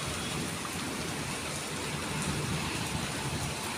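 Heavy rain pours in Batti, Himachal, a dense, steady roar of drops hitting surfaces, close and unbroken throughout with no talk.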